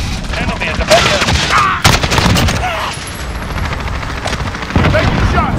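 Gunfire in Modern Warfare with an AK-74M: loud bursts of automatic fire crackle in close succession, mixed with other battle noise and occasional voice callouts.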